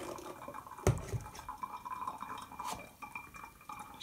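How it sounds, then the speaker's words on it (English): Homemade oat milk is poured through a teapot strainer, a knock of the pot followed by close liquid trickling and dripping with light clinks of kitchenware. "So then I'll just come in, pour it in,"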